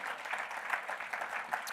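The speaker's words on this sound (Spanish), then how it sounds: "Podemos darle un aplauso al Señor, hermanos." A church congregation claps together in praise, a soft, fairly distant patter of many hands, steady throughout with no talking over it.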